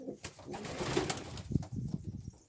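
Homing pigeons coo in their loft, with low, throaty calls rising between about one and two seconds over a steady background rustle.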